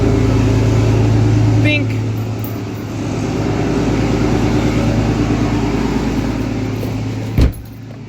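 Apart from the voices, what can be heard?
Cummins diesel truck engine starting and running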